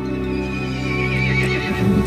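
A horse lets out a loud, close, sustained whinny as a storybook sound effect, the call wavering and rising over about two seconds with a faint hoof clop near the end.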